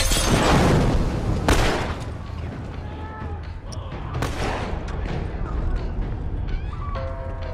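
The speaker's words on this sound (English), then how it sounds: "Light him on fire." An enemy set ablaze with fire in the video game The Last of Us: a loud, booming burst opens the clip, then a sustained roar and crackle continues alongside scattered game effects.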